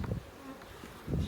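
Honey bees on a brood frame lifted from a hive buzz in a steady, close drone, swelling slightly at the start and end of the moment.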